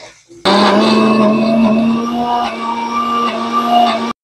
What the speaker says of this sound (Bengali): ডালটা যখন আধা বাটা হয়ে যাবে, দিয়ে দেবো এর মধ্যে কিছু কাঁচা লঙ্কা। আবারও একটু পিষে নেব।